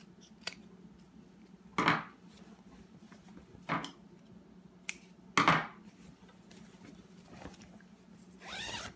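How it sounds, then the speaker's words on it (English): Scissors snip off the excess zipper while a jingle dress is being sewn: three crisp, separate cuts close by in an otherwise quiet room, with no talking. "whatever excess zipper you have on the back, just cut that off"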